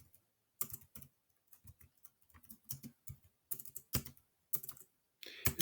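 Typing on a computer keyboard, with irregular bursts of close, crisp key clicks separated by short pauses, including a few louder clustered strokes.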